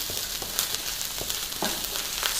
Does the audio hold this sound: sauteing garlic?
yes